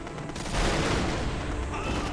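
Infantry rifle fire in the 2004 strategy game Axis & Allies during the Battle of Guadalcanal: a continuous, loud, crackling barrage of overlapping shots with no pause across the whole stretch.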